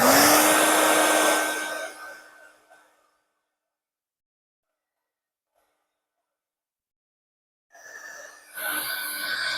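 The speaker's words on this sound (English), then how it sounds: "I'm going to blow dry it again" A hair dryer blows on wet paint on a small Halloween ghost figure, a loud steady whooshing hum with a tonal whine that fades out, then a long silence, then the dryer starts up again close by.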